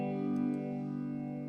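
A sustained electric guitar tone passes through a pedal with phaser, delay and reverb, a smooth, faintly swirling drone with a soft echoing tail, quiet and alone.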